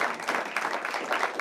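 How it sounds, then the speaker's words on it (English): Applause for CMPD Chief Johnny Jennings at a Charlotte Mecklenburg gathering, a brief burst of steady crowd clapping filling the whole moment, no talking over it. "Ladies and gentlemen, please round of applause for"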